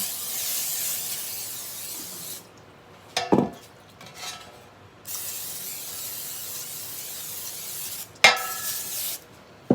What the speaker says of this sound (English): And I'm using just some butter flavored spray.